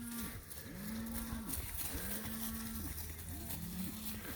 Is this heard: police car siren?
no